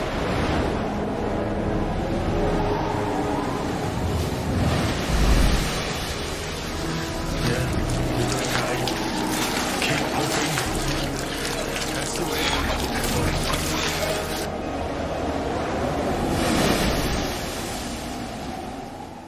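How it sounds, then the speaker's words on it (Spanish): Rough sea surges and churns under strong, gusting wind, with a dense, continuous roar of crashing water and buffeting air, loud and steady throughout. "El mar empezó a levantarse. El viento cada vez soplaba más fuerte."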